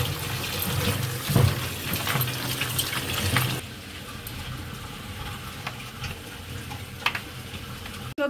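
Water from a kitchen tap running steadily while vegetables are washed in a sink, a continuous close gushing that softens partway through, with a few faint clinks and no talk.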